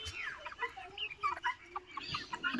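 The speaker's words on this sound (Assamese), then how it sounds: "এইটো গিনি ফ্ল মেল হয়, চাওক মেলটো তামাম দৌৰাই থাকে মেলবিলাকে আৰু এই বহুত চিল্লায়" Male guinea fowl on a poultry farm in Guwahati, Assam give harsh, repeated cackling calls close by, overlapping in an uneven chatter with some farmyard background noise.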